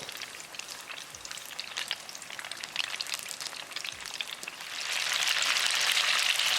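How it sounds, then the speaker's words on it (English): Fish pakora sizzles and crackles in hot oil with a steady bubbling hiss that grows louder and denser toward the end. "Deep frying for 2 minutes."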